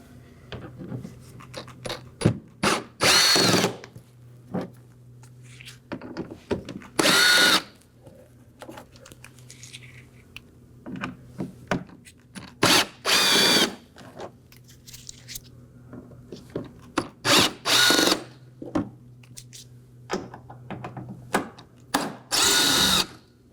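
Power drill spinning out T15 Torx screws from the inner wheel well of a 2018-2024 Chevrolet Equinox, several loud whirring bursts close by with pauses between them.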